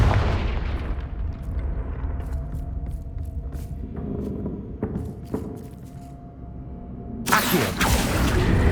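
Confringo blasting spells go off in Hogwarts Legacy, soft thuds and rumbling impacts over a low game backdrop, ending with a louder burst of explosive crackle near the close.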